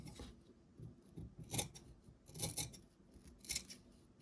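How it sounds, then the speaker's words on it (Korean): Scissors snipping through interlining fabric while a bespoke English-style jacket is cut, three distinct crisp cuts spaced about a second apart, close and fairly quiet with no talking. "그냥 가위밥 한 줄만 딱 주시면 되겠어요"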